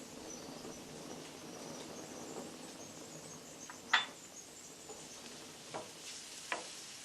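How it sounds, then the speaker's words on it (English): Onions and peppers being stirred and sautéed in a pan for seafood paella, with a soft steady sizzle and a few faint scraping taps from the utensil, quiet and without talk. "Just continuing to stir and saute the onions and the peppers there."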